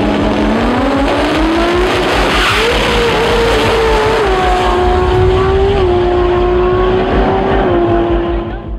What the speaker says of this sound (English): Black Diamond is another 6-second 2JZ, this one driven by Josian Colon from Bayamo